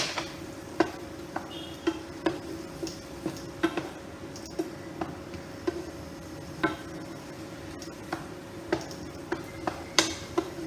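Spices with potato and pointed gourd being sautéed in a pan, a vegetarian dish: repeated light scraping and stirring clicks of a spatula over a soft steady sizzle, close and fairly quiet, with no talking.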